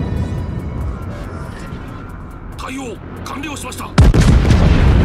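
The battleship Fuso fires its main guns in World of Warships: a rumbling naval battle with distant booms builds to a sudden, very loud close salvo near the end, as someone comments throughout.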